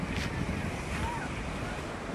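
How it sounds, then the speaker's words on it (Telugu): Sea waves surge against the Dwarka coast in a continuous broad roar with wind buffeting the microphone, loud and steady throughout. "సముద్రుడు చూడండి అసలు ఏ విధంగా ఉప్పొంగుతూ ఉన్నాడో"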